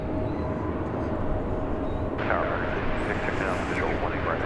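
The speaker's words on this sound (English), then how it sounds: "So Japan Airlines Flight 12 touches down after an 11-hour and 15-minute flight from Tokyo Haneda Airport" Japan Airlines Flight 12 touching down after a long flight from Tokyo Haneda, a steady loud roar of jet engines and rushing air that rises into a brighter whine midway, with faint voices underneath.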